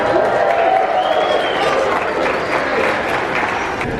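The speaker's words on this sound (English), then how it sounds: "let's cheer for them, y'all. Let's cheer for them." A crowd at a Christmas tree lighting at the Peabody Hotel in Memphis applauds and cheers for the red carpet team, a dense, steady wash of clapping and shouts that holds loud and continuous throughout.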